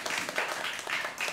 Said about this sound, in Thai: ชื่อโลมาเอาปรบมือต้อนรับโลมา